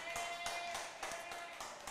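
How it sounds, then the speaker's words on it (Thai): A classroom of children applauds a student for a correct answer during an English lesson, with a steady patter of light, fairly faint claps and some voices mixed in. "อ้าวน้องเปรมได้รางวัลไปปรบมือเพื่อนหน่อยลูก"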